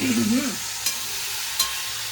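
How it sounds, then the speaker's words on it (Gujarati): Steady oil sizzle from green chilies frying fills the clip, with a couple of brief metallic taps from a utensil against the pan. "હા, મરચા તળાઈ ગયા."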